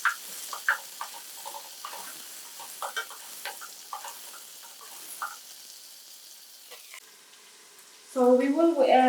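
Whole spices sizzle in hot oil for chickpea pulao, then chopped onions drop into the pan and set off a sudden loud, crackling fry near the end; a person talks over the earlier part.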